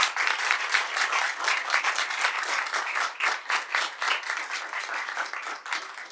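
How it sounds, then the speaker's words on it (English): An audience at a school board meeting applauds a third-place high school student in steady, moderately loud clapping that continues unbroken for about six seconds with no talking. "Come on, give her a clap."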